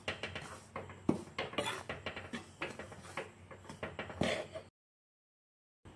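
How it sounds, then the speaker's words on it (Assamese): Rice flour with a little salt is dry-roasted in a pan, with a quick series of close scraping and clinking spoon strokes that stop abruptly into silence near the end. "এনেদৰে চাউলৰ গুড়িখিনি এনেদৰে ভাজি ল'ম"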